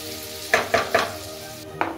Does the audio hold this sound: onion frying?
yes